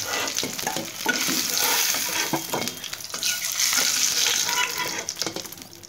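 Eggs frying in hot oil for a cauliflower curry, a dense, close sizzle with scraping and stirring clatter as the eggs are lifted out one by one.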